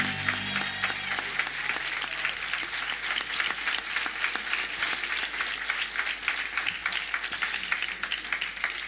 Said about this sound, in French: Est-ce qu'on peut les applaudir bien fort encore,